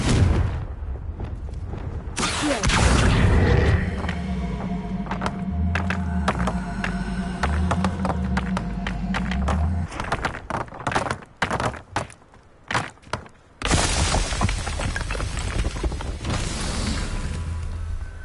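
Fiery blast spell erupting in Hogwarts Legacy: a loud, roaring burst with a deep rumbling tail, followed by a cluster of sharp thumps and impacts, then another sustained roar of flame and debris.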